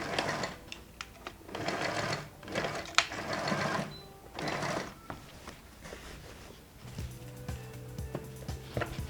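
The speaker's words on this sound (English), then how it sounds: "So now I'll be stitching the flap on the other side, and I will stop on the 7 inches point." A sewing machine stitches a fabric flap on a man's native trousers, running in several short whirring bursts with brief stops between them, close and fairly quiet.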